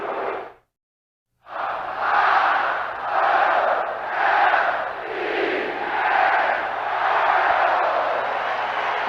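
A baseball cheering section in the upper deck at the 1979 World Series Game 7 roars in rhythmic swelling chants, loud and sustained, starting after a short silent gap.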